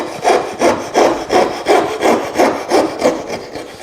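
A hand saw cuts across a wooden board in a steady rhythm of about eight rasping strokes, each push rising and falling evenly, close and clear with no voices.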